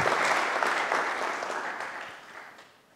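An audience breaks into warm, sustained applause welcoming Cliff Asness to a quantitative finance talk, a full crowd clapping that slowly tapers off.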